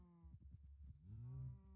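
Cows mooing in a Minecraft-style block game, a short grunting series of low calls rising into a drawn-out moo, close and fairly quiet, no talk.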